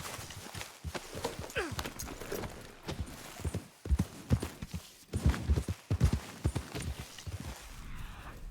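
Horse hooves clip-clop in a quick, uneven rhythm while riding in the Red Dead Redemption II video game, loud and close, with brief pauses, a short whinny-like sound and light ambient noise around them.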